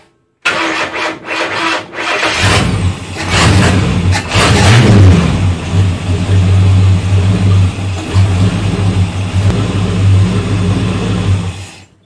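XC Ford Falcon wagon's 351 Cleveland V8 cranking and firing, then settling into a loud, close, steady idle with a slight uneven lope that runs until it shuts off near the end.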